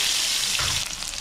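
Chopped scallions hit hot oil in a wok used for frying fish, giving one close, loud hiss that bursts up and then settles into a steady sizzle, with no voices.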